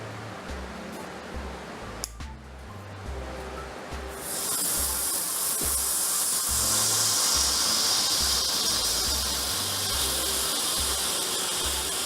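Homemade candy rocket fuel packed into a socket and lit with a match head bursts into a loud, steady hiss after a sharp pop of ignition, roaring on without pause over a low background rumble.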